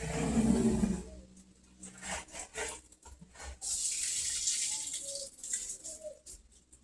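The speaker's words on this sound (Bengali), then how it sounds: "এই যে নিচে যেন জল পড়ছে।" Tap water running into a drum, a splashing gush that starts and stops in uneven bursts, close by with no talk.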